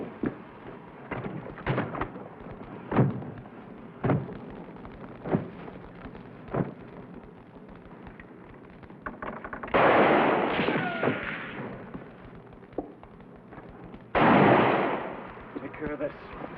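Old western-style gunfire aimed toward a wagon: a series of sharp, spaced shots of moderate loudness, then two longer loud roaring blasts, with no talk over them.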